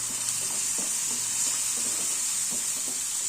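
Ginger paste for pumpkin curry fries gently over a low flame, a steady soft sizzle with a few light spatula scrapes and stirs, close and even, with nobody talking.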